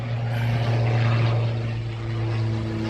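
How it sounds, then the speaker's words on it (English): A propeller airplane drones overhead above the Old Sarum castle ruins, a loud, steady low hum with a tonal buzz that holds throughout, slightly swelling and fading, with no talking. "And then look, the plane!"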